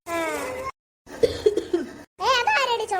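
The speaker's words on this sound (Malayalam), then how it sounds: "അതാരടി ചുമച്ചേ?" A child coughs once in a short burst, followed by soft giggling or laughter-like sounds and more childlike vocal noises, all close and clear with brief silent gaps between them.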